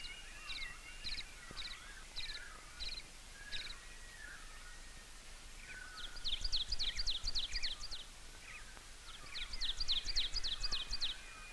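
A yellow warbler sings in a forest: short bright chirps repeat in a series, then two louder, rapid trilling bursts stand out over quiet woodland background.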